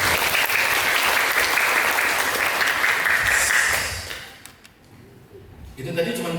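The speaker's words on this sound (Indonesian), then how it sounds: "tepuk tangan buat 111 anak yang ada di sini hari ini" Audience applause for vocational-school accounting students at a workplace visit, a dense, steady clapping from a large group that fades out after about four seconds, leaving quieter room sound.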